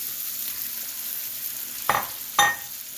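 Shrimp for char kway teow noodles dropped into a hot pan, giving two sharp bursts of sizzle over a faint steady hiss, close by and with no talking.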